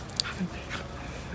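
A corgi lets out a few brief, soft whimpers and whines on a festive city street, heard close by amid background chatter.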